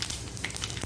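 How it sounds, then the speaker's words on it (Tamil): Mustard seeds splutter in hot oil in a pan, a soft, steady close-up crackle with scattered little pops, brief and quiet, with no talking. "இப்போ கடுகு நல்லா பொரியுது"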